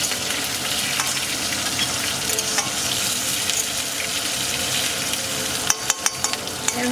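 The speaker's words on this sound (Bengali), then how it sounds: "লঙ্কাটাকে ভালো করে ভাজতে হবে।" Green chillies fry in a pan, a dense, loud sizzle throughout, ending with a few sharp clicks and knocks of a utensil.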